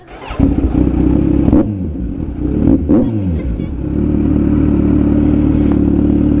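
Kawasaki Z900 superbike engine revving loudly up close, with sharp throttle blips near 1.5 and 3 seconds before settling into a steady, rumbling idle; no talk.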